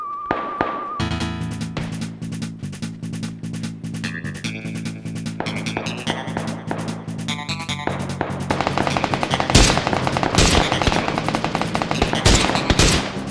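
Video game gunfire rattles in long, rapid automatic bursts that stay loud and close for the whole stretch. Sharper, heavier single shots break in near the end.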